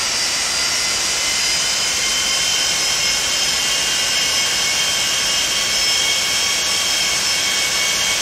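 Boeing 747-200 jet engines whine and roar steadily while taxiing in a flight simulator game, a constant loud hum with high-pitched turbine tones and no variation.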